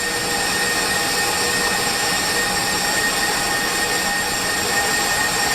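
A stand mixer kneading pizza dough runs with a steady, loud mechanical whir and hum, continuous and unbroken throughout with no talking.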